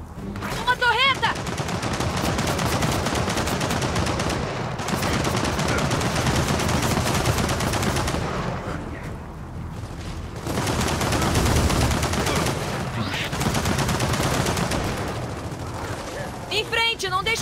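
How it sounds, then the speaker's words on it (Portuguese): A turret in the video game Gears of War 4 fires loud, rapid bursts of gunfire. The bursts come in long volleys with short lulls between them, and voices are mixed in. "Não deixa aquela torreta nos prender!"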